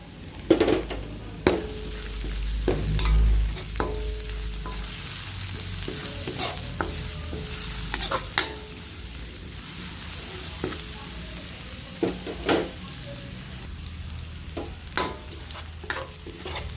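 Onions sizzle in a frying pan as a spatula scrapes and stirs, giving sharp intermittent clacks and scrapes over a soft, continuous background of frying.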